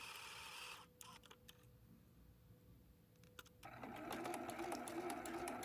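A sewing machine stitches the seams of a fabric quilt ornament edge to edge, its fast mechanical whir stopping and restarting in short runs with faint ticks in between.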